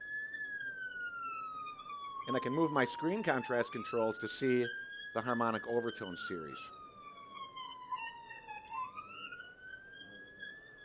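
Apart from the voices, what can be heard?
extracted police siren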